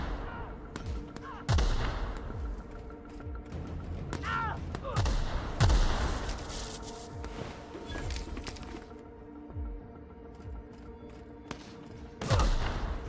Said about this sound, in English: Yeah, just keep throwing grenades at him.